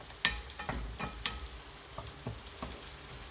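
Salmon frying in butter with lemongrass in a pan, with soft sizzling and a few sharp crackles and stirring scrapes spread across the moment, fairly quiet and close, with no voices.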